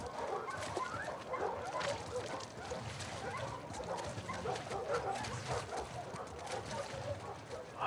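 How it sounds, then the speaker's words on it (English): Many dogs barking in the video game The Last of Us Part II, a dense, continuous pack of overlapping barks and yips at moderate distance, mixed with background game ambience. "Sounds like they got a lot of dogs."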